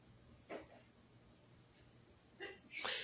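A quick sharp exhale or sneeze, then a louder sneeze-like burst near the end, close and brief with quiet between.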